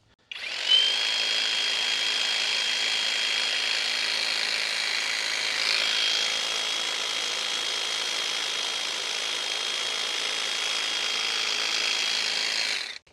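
An EGO 26-inch carbon fiber cordless hedge trimmer cuts through a hedge with a steady, high-pitched electric buzz that starts abruptly, holds nearly constant for about twelve seconds and stops sharply.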